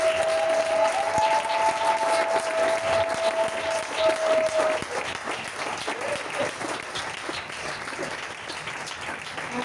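A church congregation applauding, a sustained, moderately loud wash of clapping from a crowd that fades slightly toward the end, with a faint tone and some voices mixed in early on.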